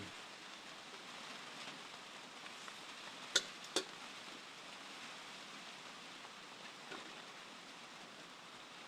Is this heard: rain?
yes